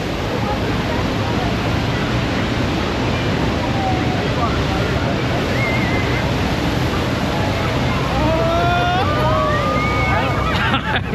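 Heavy roaring spray and rushing water at Niagara Falls, a dense continuous wash close by, with faint voices and shouts mixed into the roar.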